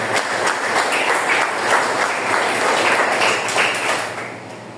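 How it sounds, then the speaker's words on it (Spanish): A church congregation applauds during a sermon, many hands clapping together in a dense, steady wash of claps that holds for several seconds and then eases off slightly at the end, with no talking over it. "Dale palmas a Dios."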